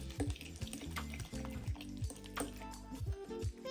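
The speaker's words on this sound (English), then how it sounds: "Put those in there and give that all a good mix." A spoon stirs a thick white sauce with chopped pepperoncini in a bowl, giving quiet, wet squelching strokes and light scraping in an irregular rhythm. The stirring is close but faint, with no voices.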